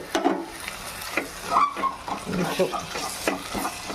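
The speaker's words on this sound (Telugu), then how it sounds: "మీడియంగా పెట్టుకొని మంచిగా ఫ్రై చేసుకున్నాం" Spiced chicken biryani masala with curd fries in a pan, giving soft sizzling and scraping stirs in uneven bursts, close by, while someone talks over it.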